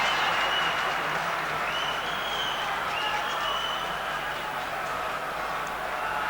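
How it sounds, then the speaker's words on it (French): A stadium crowd at a 1994 World Cup qualifying football match between Belgium and Wales applauds the Belgian team with sustained, even clapping from a large distant crowd. "beaucoup d'applaudissements à l'adresse des Diables Rouges qui le méritent"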